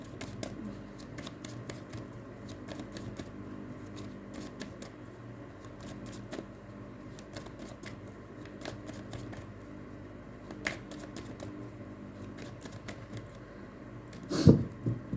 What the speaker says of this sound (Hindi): final shuffle please Baba ji